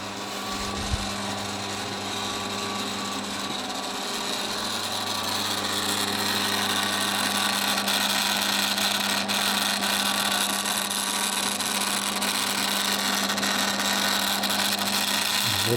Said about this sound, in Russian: Паша, станок включился.